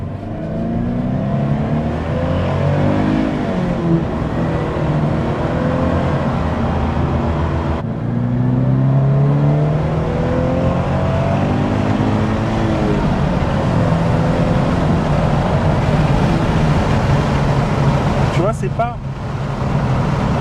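Toyota GT86 sports car engine revving up from inside the cabin, a steady loud drone rising in pitch through the throttle, with people talking over it throughout.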